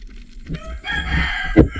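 A rooster crows loudly and close by, a sustained strained call with a brief cluck near the end.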